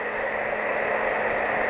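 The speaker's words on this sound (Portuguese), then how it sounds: "E eu vou passar o secador e continuar girando." A hair dryer blows steadily on short, closely cropped hair at a salon, producing a continuous loud broadband whoosh with no pauses and no talk.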